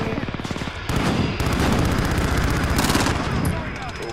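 Gunfire in Call of Duty: Modern Warfare, with rapid automatic bursts and sustained volleys rattling almost nonstop and close, dense and loud throughout.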